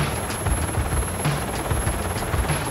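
A Royal Navy Fleet Air Arm helicopter, the kind used for assault troop carrying, makes a steady rotor and engine drone with soft rhythmic thumping throughout.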